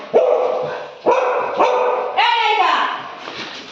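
Labrador dog barking close by, about four loud barks spaced roughly a second apart, the last drawn out into a yelping whine.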